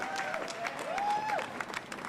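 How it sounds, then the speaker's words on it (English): Applause from an outdoor crowd at a Pride flag raising, brief and moderately distant clapping with a faint tonal sound running over it. "Give the councilwoman a huge round of applause."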